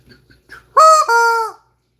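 A chicken gives a loud, close, drawn-out two-part call after a few soft clucks, clear and alone without talk.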